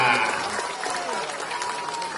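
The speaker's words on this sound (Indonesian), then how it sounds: "Tepuk tangan buat semuanya." A crowd at an Anies campaign rally in Brebes claps, a busy patter of many hands with some cheering voices mixed in, fairly close and sustained.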